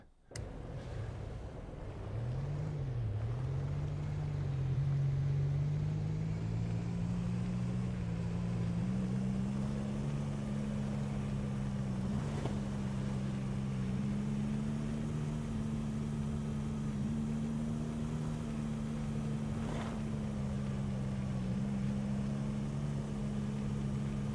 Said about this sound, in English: The engine is obviously still running.